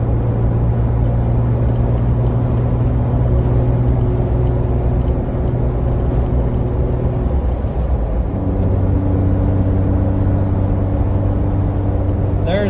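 A Jeep Wrangler JK running with no muffler pulls under throttle at highway speed in fourth gear, a steady loud droning exhaust hum with a low rumble that shifts in pitch partway through.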